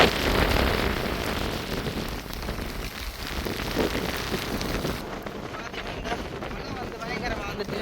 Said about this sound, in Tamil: மழை பெய்யறதோட காற்று தான் கொஞ்சம் பயங்கரமாக அடிக்குது.